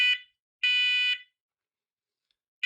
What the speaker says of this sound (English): when you take the smoke detector off and hold the smoke under it, that sets it off quicker